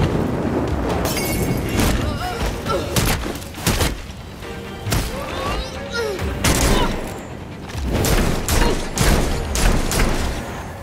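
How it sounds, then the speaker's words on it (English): In the video game Gotham Knights, fireworks go off as dense, booming bursts and rapid crackling volleys, layered with game effects and character voices over a continuous loud mix. "Enjoying the fireworks."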